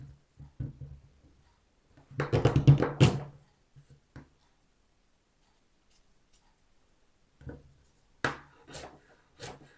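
A knife cuts cassava into large pieces, with short bursts of woody chopping and scraping separated by quiet pauses, close by.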